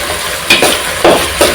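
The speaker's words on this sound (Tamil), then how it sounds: "சேர்த்து எல்லாம் நல்லா கலந்து விட்டுருங்க." Ground spices such as turmeric, cumin, pepper, coriander and chili powder get stirred into a sizzling pan base for a Kovai-style mushroom kulambu, with three distinct scraping stir strokes over a steady close fry and no voices.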